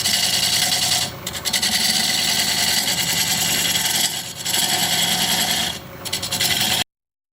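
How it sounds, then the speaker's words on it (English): A diamond point tool cuts into mulberry wood spinning on a lathe, a steady close scraping rasp with three short pauses as the tool lifts away. "Now I want to use this diamond point tool to create a dovetail on the outside of that tenon."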